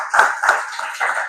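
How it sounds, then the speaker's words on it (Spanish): A congregation claps for a moment during a Spanish-language church sermon, with a few sharp, ragged bursts of hands rising together over a steady room wash. "Dele un fuerte aplauso al Señor, hermano."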